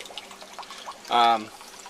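Water flowing out of a small Harbor Freight pump held in water outdoors, a faint trickle with a brief louder gush of pouring in the middle.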